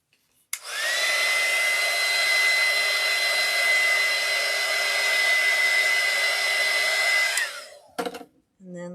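A hair dryer blows steadily at close range for about seven seconds, drying alcohol ink on a ceramic tile, then clicks off.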